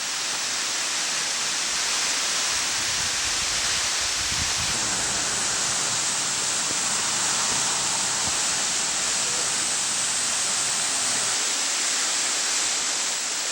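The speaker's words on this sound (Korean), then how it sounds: "기암 절벽 사이에서 세찬 물줄기가 쉼없이 흘러내리는 삼부연 폭포입니다." Sambuyeon waterfall in Cheorwon pours forcefully between rocky cliffs, a constant loud broadband roar of crashing water that holds steady and unbroken throughout, with no voices.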